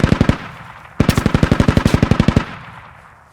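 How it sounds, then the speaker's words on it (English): Machine gun fire in a multiplayer shooter game: a short loud burst, then a longer rapid burst of about fifteen evenly spaced shots with a fading tail, close and without talk. "Beautiful placement for an MG"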